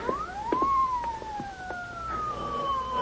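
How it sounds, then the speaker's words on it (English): A police car siren wails in an old-time radio drama, a rising and falling tone that sweeps slowly and steadily, fairly loud over faint background noise. "Hey, listen. Police car."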